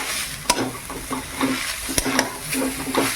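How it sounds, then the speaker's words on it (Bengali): Jaggery frying in a pan is stirred steadily, with soft repeated scrapes and clinks over a constant close sizzle. "এবার ভালো করে নেড়ে নেড়ে ভাজতে থাকবো"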